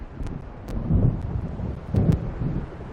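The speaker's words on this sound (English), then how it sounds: "It seems there's a storm coming." In the video game Alan Wake, an approaching storm brings blustery wind over the sea and two low rolls of distant thunder, a steady dark rumble that swells twice.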